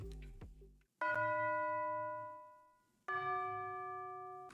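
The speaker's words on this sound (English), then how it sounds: "There's also some bells." Orchestral bells from a Terraria boss theme ring out twice, each bright struck chord sustaining and slowly decaying, preceded by a short plucked figure, with no voices.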